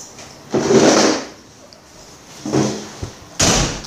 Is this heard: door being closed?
yes